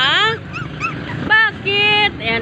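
A tricolor puppy with brown markings whimpers and yips close by in a string of high, wavering cries separated by short pauses.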